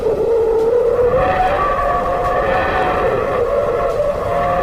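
Sonified recording of the Sun captured by spacecraft instruments, a loud continuous roaring drone with a wavering tonal whine and a rumbling noisy bed, heard alone without talking.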